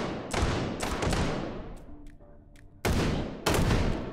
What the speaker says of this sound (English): shotgun in the face